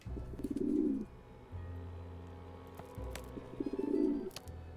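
A pigeon in a Nancy Drew video game coos twice, each a rolling, throaty coo phrase about a second long, separated by a low steady ambient hum, with no voices present.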